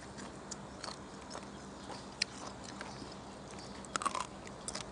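Crunchy chewing of soy-pickled clam roots, a series of faint, irregular crisp bites and small clicks close to the mouth, with no talking.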